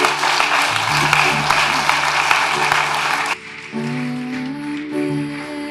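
Applause fills a church congregation for several seconds, a broad wash of clapping that stops abruptly and gives way to sustained tones of music.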